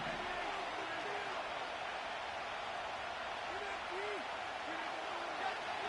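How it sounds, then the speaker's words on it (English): Stadium crowd noise from a Madden football video game, a dense, steady roar of a cheering crowd building ahead of a third-and-ten play, filling the whole stretch as a constant wash. "What about this crowd getting even louder before third and 10?"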